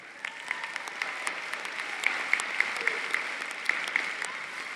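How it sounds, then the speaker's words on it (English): A crowd at a university graduation ceremony applauds for several seconds, a steady wash of clapping at moderate distance with a few sharper claps standing out. "So faculty, give them a round of applause."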